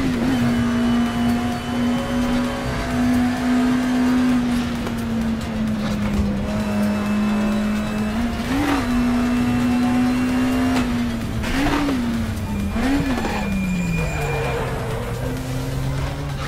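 Car engine in an online racing video game, its steady drone rising and dipping with brief rev spikes as the auto shifter grinds through the gears, loud and continuous throughout.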